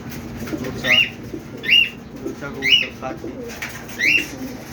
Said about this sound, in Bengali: এই যে কবুতরের বাচ্চাগুলো হয় যে